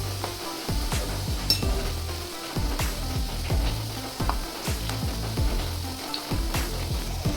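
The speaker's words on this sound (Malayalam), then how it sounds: "പഞ്ചസാര ഒന്ന് ഇളക്കി കൊടുക്കാം" Sugar being stirred in a pan with water to make syrup for a sweet wheat-flour uzhunnu vada, giving a steady sizzle with repeated scraping strokes of a spoon at an even rhythm, close and alone.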